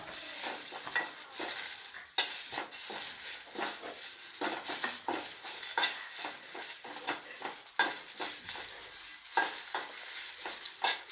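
Ingredients stirred and heated in a pan, with a steady sizzle and repeated scraping strokes of a spoon against the pan, close and fairly quiet, with no talking.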